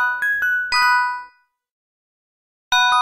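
A bright electronic phone ringtone chimes from a visual novel game in short bell-like ding bursts, falls silent for over a second, then rings again loudly.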